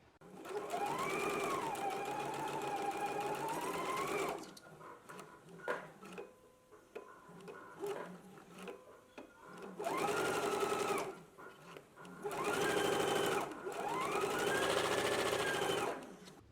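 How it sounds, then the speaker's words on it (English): A sewing machine stitches a dress sleeve seam at 5/8 inch, running in long steady whirring bursts with quiet pauses between them, close by and loud, with no talking. "we can go ahead and stitch at a 5/8 inch seam allowance, and I will finish off my seams with the serger"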